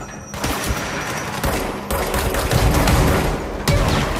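Rapid volleys of gunfire in a shooter video game, dense bursts of loud close shots with brief gaps between them.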